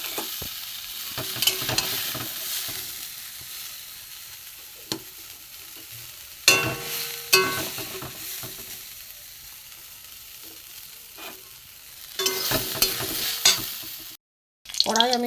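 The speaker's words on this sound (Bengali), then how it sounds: "যুক্ত ফুল আমার মোটামুটি ভাজা হয়ে গেছে" Jukto ful (vegetable flowers) frying in a pan with oil, a steady broadband sizzle broken by a few louder stirring scrapes and clatters, close up with no voices.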